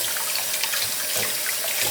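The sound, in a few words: water running while rinsing Egyptian walking onions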